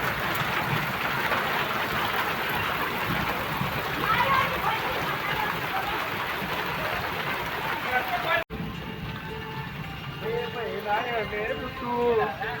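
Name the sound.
heavy fast rain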